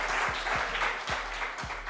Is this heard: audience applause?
yes